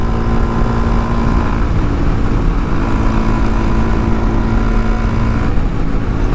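A Honda Grom motorcycle rolls downhill at about 60 without full throttle, its steady engine drone blending with constant wind roar, loud and unbroken throughout.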